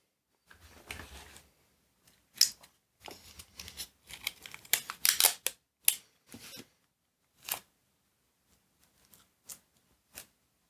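A piece of tape is pressed onto a print surface and lifted off to pick up leftover stencil paint, giving sparse, sharp crackles and sticky pulls in scattered bursts with quiet gaps between.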